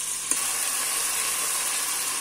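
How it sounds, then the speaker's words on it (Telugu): Ginger garlic paste fries in a pan with a steady bright sizzle and a single faint tap of the stirring spoon near the start, close and continuous with no voices. "అల్లం వెల్లుల్లి పేస్ట్ 2 స్పూన్స్. ఇలా పచ్చి వాసన పోయేంత వరకు కలుపుకుంటూ ఉండాలి."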